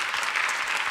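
Church audience gives a pastor a warm round of applause after a talk, a dense, even clatter of many hands filling the room without pause.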